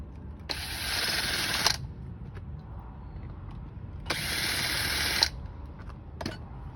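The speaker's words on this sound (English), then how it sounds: "just a matter of taking our drill" A power drill drives screws into a 20-inch seat, giving two whirring, ratcheting bursts of about a second each, separated by quiet handling noise and light clicks.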